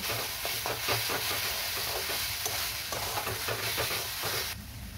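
Spices with turmeric and salt sizzle loudly in a hot pan while being stirred, with rhythmic scraping strokes over the constant hiss of frying.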